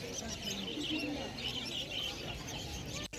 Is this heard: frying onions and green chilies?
no